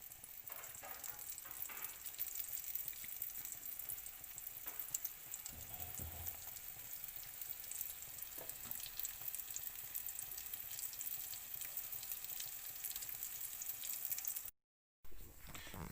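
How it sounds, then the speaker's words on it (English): Gozleme cooking in oil in a fry pan over low heat, a faint steady sizzle running throughout, with a few light clinks and a brief drop to silence near the end; no one talks. "now we put the gozleme into the pan and we start to let them cook"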